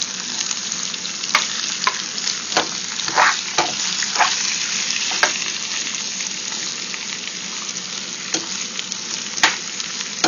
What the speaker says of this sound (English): I'm going to throw the rest of my veggies in here and get that stirred up nicely